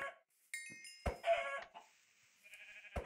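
Brown chicken in Minecraft gives a few short clucks among chimes and other game sounds, quiet and spaced out.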